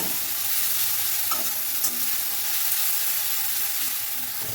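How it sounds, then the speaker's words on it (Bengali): Grated onion and dried red chilies stir-fry in a hot pan with a loud, continuous sizzle heard up close, broken now and then by a soft scrape of a utensil. "আর গ্রেট করে রাখা পেঁয়াজটাও দিয়ে দিচ্ছি, দিয়ে সব কিছু ভালো করে মিশিয়ে নিচ্ছি।"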